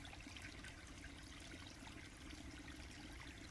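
Water flowing in a small stream, a soft steady trickle and babble that stays faint and even throughout with no voices.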